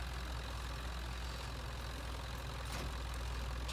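A farm tractor idles steadily beside a hay trailer, producing a low, even engine rumble at moderate distance with no voices over it.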